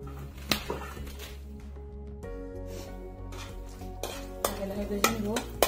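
Whole spices, cardamom, cloves, cinnamon and black pepper, fry in a little oil in a pan, with a soft sizzle under scraping and clinking as they are stirred, and occasional sharp knocks of the utensil against the pan.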